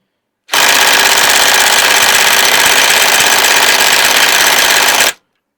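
A Makita impact driver hammers continuously for about five seconds, a loud, dense, buzzing rattle that starts and stops abruptly, with nothing else heard.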